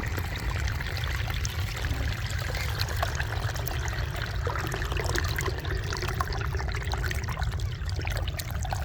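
Irrigation water flows into a wheat field in a steady, loud, unbroken gush and splash that stays constant throughout, with no voices.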